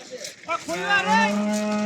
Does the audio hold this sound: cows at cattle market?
yes